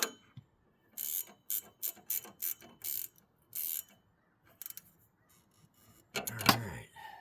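Ratchet wrench tightening a jam nut on a shock absorber of a 1995 Nissan Hardbody truck, a series of sharp clicking bursts in quick strokes with short pauses, close and clear, ending in a louder cluster of clicks.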